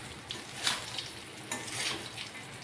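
Ivy gourd and besan curry frying in a pan, giving a soft, steady sizzle with a few faint scrapes and clinks from stirring, close by and without any talk.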